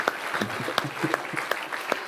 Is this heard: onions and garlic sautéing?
no